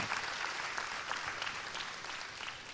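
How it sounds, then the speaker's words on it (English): A crowd at a forum claps for a speaker in a dense, even burst of applause that holds steady and close throughout. "Can you put your hands together one more time for Mr."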